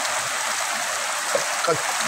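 Heavy rain pours over paddy fields in Satkhira during a storm, a steady, dense hiss with no breaks and a couple of faint knocks near the end.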